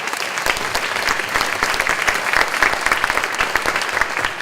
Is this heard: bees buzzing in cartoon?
no